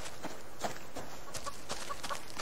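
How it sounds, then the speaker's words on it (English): A chicken clucks in the survival video game Subsistence, a series of short repeated clucks over a steady outdoor ambient background, moderately close with no talking. "I hear a chicken."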